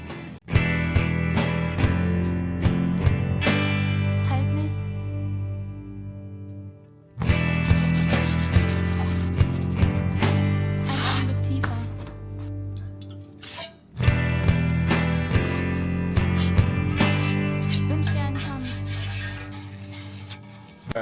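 Rough, rhythmic rasping strokes of 180-grit sandpaper scuff a valve cover from a 1997 Mazda Miata, loud and close, in three sustained bursts separated by brief pauses.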